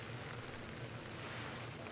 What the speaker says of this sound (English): I do hear rain.